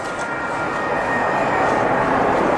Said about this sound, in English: As you can probably hear, I'm in the airport at the moment.